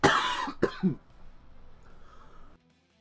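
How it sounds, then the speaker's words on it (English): Two or three harsh, wet coughs on phlegm burst out close to the microphone, followed by a quieter breathy rasp before silence. "Choked on a piece of phlegm there."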